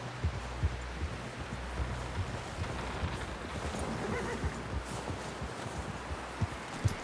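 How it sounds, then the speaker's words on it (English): A horse in the video game Red Dead Redemption snorts and shifts with soft hoof clops on ground, irregular and close, heard faintly under ambient rustle with no talk. "Someone help John down off this horse"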